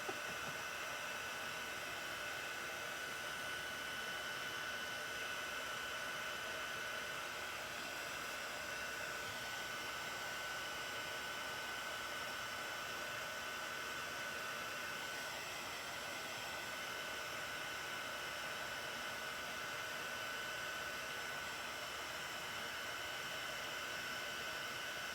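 A heat tool blows steadily to melt embossing powder onto paper during card making, giving a continuous, loud, even whoosh of hot air that runs unbroken for the whole stretch with no voices.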